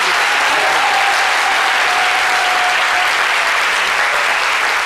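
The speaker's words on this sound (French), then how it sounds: "Applaudissements encore pour le monsieur." Audience applause for a former world boxing vice-champion at a sports event, loud continuous clapping from a crowd with a faint whistle-like tone running through it.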